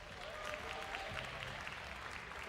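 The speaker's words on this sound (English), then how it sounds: "please give them a warm round of applause." Steady applause from an esports championship crowd, a dense wash of clapping that holds evenly throughout with faint voices mixed in.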